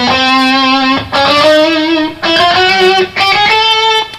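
Distorted electric guitar runs a chromatic scale three notes per string starting on E, a steady stream of sustained, effect-laden notes in four phrases with brief gaps, loud and close with no talking.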